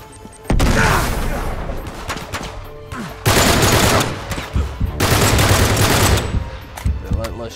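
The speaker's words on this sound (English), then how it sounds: "Relentless shooting." Relentless gunfire in the video game Uncharted 3: Drake's Deception, dense bursts of automatic and single shots with booming impacts and brief lulls, loud and close throughout.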